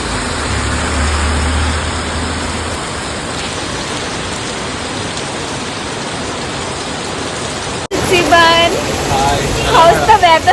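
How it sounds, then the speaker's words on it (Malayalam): Heavy rain pours outdoors in Kochi, a steady dense hiss with a low rumble underneath, then after a sharp cut the downpour continues with people talking over it. "നല്ല സൂപ്പർ മഴ."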